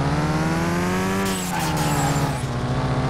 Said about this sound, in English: Oh, it's got a blow-off valve.